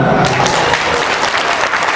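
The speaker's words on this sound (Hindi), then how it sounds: "जोर जोर ताली बजा लो" A large crowd at a Rashtra Raksha Divas celebration claps hard and fast, a loud unbroken roar of applause close by.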